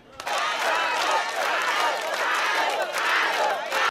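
A large crowd at a political gathering cheers and shouts with scattered clapping, a dense continuous roar that swells and stays loud for several seconds.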